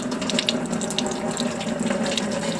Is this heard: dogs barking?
no